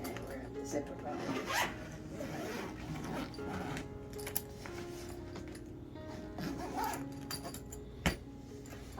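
Carry-on travel bag zipper drawn shut in short rasping pulls, close and moderate in volume, mixed with light handling rustles and a sharp tick near the end, with a voice speaking faintly alongside.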